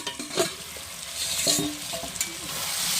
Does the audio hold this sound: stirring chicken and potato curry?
yes